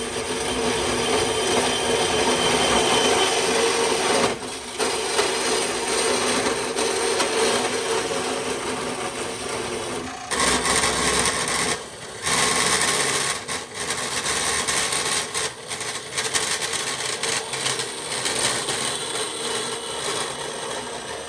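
A power tool grinds steadily through a golf cart muffler pipe being cut to size, a loud continuous harsh rasp broken by a few short pauses.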